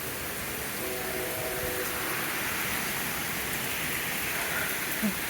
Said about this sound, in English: And this is a big storm.